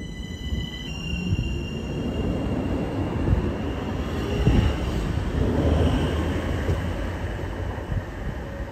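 A tram-train pulls out of Rotherham Central station, its electric whine and steady high tones giving way to a building rumble of wheels on rails, close and continuous for several seconds.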